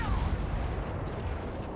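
Missiles fire at a spaceship in a space combat game, making a dense, rumbling barrage of booming blasts that runs without a break through the short moment.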